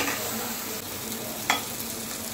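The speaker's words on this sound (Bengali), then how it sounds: "আলুটা দিয়ে একটু কষিয়ে নিচ্ছি" Potatoes sautéing and being stirred in a pan for an aloo phulkopi curry, with a steady frying sizzle, soft scraping strokes and one sharper clink of the spoon midway; no voices.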